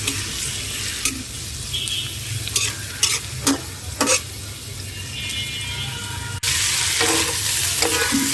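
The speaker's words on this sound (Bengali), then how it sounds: "পেঁয়াজ দিয়ে দিচ্ছি" Sliced onions hit hot oil in a pan for a chicken curry, sizzling loudly and steadily while a spoon knocks and scrapes in short stirring strokes; the frying surges louder near the end, and no one speaks.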